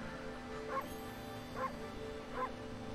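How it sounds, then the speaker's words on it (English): Dog barking in the Okami video game, three short yipping barks spaced evenly about a second apart, moderately loud over a steady musical game background. "It's actually really entertaining to just bark at things."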